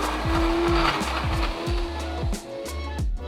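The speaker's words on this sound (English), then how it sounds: "you're just going to blend this up" A blender whirs steadily while pureeing a coarse almond-based dip, a loud continuous motor drone with rhythmic chopping pulses as the contents churn, close and alone.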